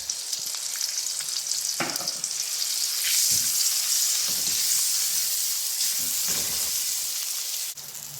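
Chicken feet fry loudly in a pan with a steady, bright sizzle and hiss that swells midway, broken by a few stirring scrapes and clunks from a utensil; no voices.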